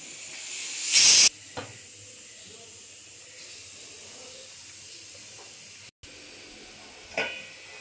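A pressure cooker holding chickpeas lets out one short, loud burst of hissing steam, followed by quieter steam puffs and a faint hiss later, over low kitchen background.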